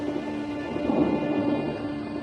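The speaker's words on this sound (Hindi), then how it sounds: "काकाडू के तूफानों की गिनती दुनिया के सबसे बड़े तूफानों में होती है।" A thunderstorm in Kakadu, Australia, with a low, steady rumble of thunder over rain, swelling slightly in the middle and carrying on without voices.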